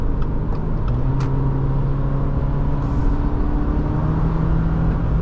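Engine and road noise inside a 2024 Subaru Forester Wilderness with a CVT, a continuous steady drone with a rising engine tone that holds at fairly constant RPM, loud and close throughout.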